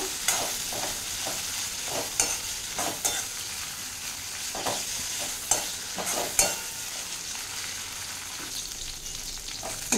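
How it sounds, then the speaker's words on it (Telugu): Dried red chillies fry in a pan for tomato chutney, a soft continuous sizzle broken by repeated scrapes and knocks as they are stirred. "ఫ్రై అవుతున్నాయి కదండి."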